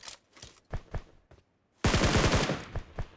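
Automatic gunfire from bot players in the mobile battle royale game PUBG Mobile, a dense loud burst of rapid shots after a few scattered single cracks, with no talking.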